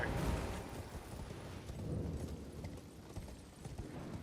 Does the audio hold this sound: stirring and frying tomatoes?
no